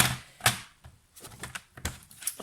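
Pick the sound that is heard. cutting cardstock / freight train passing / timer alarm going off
cutting cardstock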